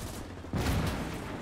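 Cannon fire in the World War II strategy game Gates of Hell: Ostfront, a single deep booming blast that hits suddenly and rolls on as a dense rumble.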